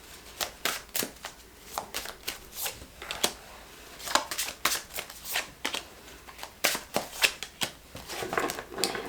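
Manifestation Tarot cards being shuffled by hand, a close run of crisp riffling bursts and soft flicks that repeat in an uneven rhythm with no talk.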